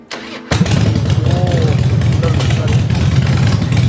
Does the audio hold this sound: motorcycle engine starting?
yes